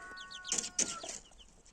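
Chickens cluck softly nearby outdoors in a short burst of quick, quiet calls while being fed.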